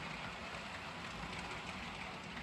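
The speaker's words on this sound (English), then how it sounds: "next trial train is gonna be a Tsunami-equipped Athern Genesis with a lighted caboose on the end" Model train with a Tsunami sound-equipped Athearn Genesis locomotive pulling a lighted caboose, a steady dense engine rumble and hiss holding at even loudness throughout, close and alone without talk.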